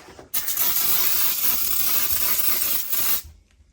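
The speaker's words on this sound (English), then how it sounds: "Spray this with some brake cleaner real quick, clean it up." A loud, continuous hiss of aerosol brake cleaner sprayed onto a Ford F-150 brake part, blasting for about three seconds, starting and stopping abruptly.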